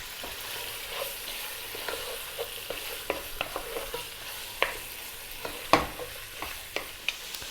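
Lamb with garlic and onions cooking in a pot over medium heat, a soft steady sizzle broken by scattered clicks and knocks of a spoon stirring against the pot, a sharper scrape near the end.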